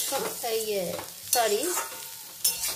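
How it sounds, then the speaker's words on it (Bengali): Cumin powder frying with papaya and masoor lentils in a pan for dal, with a spatula scraping and squeaking in drawn-out strokes over a soft sizzle, close and fairly quiet. "এবার একসঙ্গে ফ্রাই করে নিচ্ছি।"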